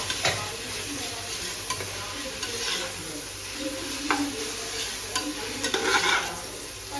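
Onion, ginger garlic paste and mint are stirred in a sizzling pan for mutton biryani, with repeated spatula scrapes and clinks over a steady close frying hiss.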